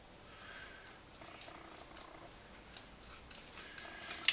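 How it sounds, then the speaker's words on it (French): Knife slicing chorizo into strips, faint soft repeated cutting strokes with scattered crisp ticks near the end, quiet and close-up. "Je vais couper mon chorizo. Je le coupe en lamelles en fait."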